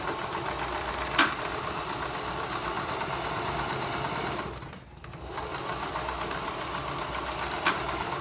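Sewing machine stitching a hair scrunchie, a steady fast whir of needle strokes running continuously, pausing briefly midway before resuming, with a couple of sharp clicks at the start and end.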